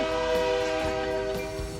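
A loud, steady train horn blares for its whole length, a rich sustained chord that fades slightly near the end.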